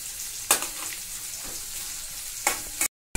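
Garlic and green chilies frying in a pan for a cowpea (vanpayar) fry: a steady, close sizzle broken by two sharp utensil clanks, then a brief dropout just before the end.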